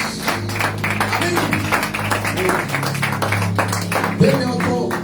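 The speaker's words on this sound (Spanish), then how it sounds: "Fuerte aplauso que es para nuestro Dios." Applause from a church congregation during a Spanish-language service, a steady mass of overlapping claps sustained throughout with music playing underneath and a brief spoken response from the crowd.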